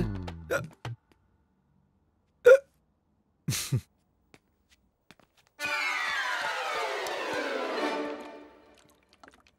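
Several short, sharp hiccups sound up close in a quiet room, spaced irregularly over a few seconds, followed by a longer sustained burst of other sound.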